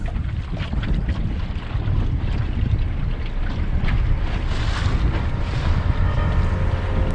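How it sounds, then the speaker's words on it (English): Small Kanot Yawl 400 sailboat tacking through choppy waves in strong wind, hull slapping and water rushing close by under heavy, constant wind buffeting. "I have to start tacking and the waves are disturbing."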